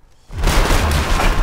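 A grenade going off in the World War II shooter World at War: a sudden loud, close boom after a brief quiet lead-in, followed by a sustained rumbling roar of debris and noise.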